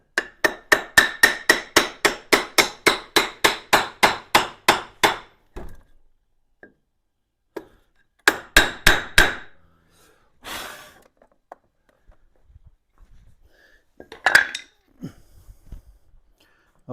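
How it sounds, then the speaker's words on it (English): A hammer taps down the steering stem on a Honda GL1500 Goldwing: a rapid run of about seventeen close, sharp metallic knocks, then a pause and a few more scattered taps. "let me gently tap this down."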